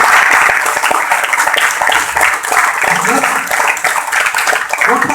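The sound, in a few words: audience clapping hands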